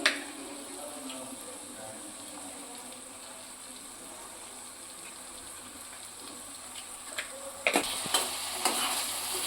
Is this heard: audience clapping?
no